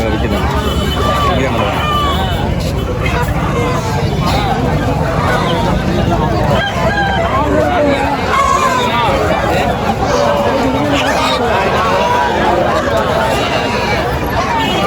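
A dense crowd murmurs at an early-morning goat market, a constant loud babble of overlapping voices with vehicle rumble underneath, no single speaker standing out.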